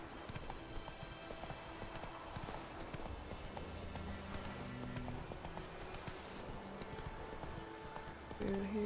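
Roach, Geralt's horse in the video game The Witcher 3, gallops with steady rhythmic clip-clop hoofbeats under game music and ambience throughout, with a brief neigh possible near the end.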